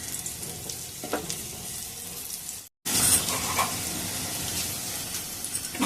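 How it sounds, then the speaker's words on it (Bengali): Pieces of bitter gourd fry in hot oil with a steady, close sizzle that stops for a moment partway through and then resumes louder. "উচ্ছেগুলো দেখুন আমার পুরো ভাজা হয়ে গেছে।"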